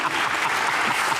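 Studio audience applause greets actor Ali Safina on a Pakistani TV comedy talk show, a dense steady patter of many hands filling the short moment without any voices on top.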